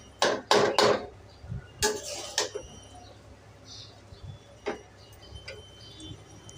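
Vegetable fried rice is stirred in a pan, the utensil knocking and scraping against the metal in a quick cluster of loud taps at first, then sparser single clicks; no speech.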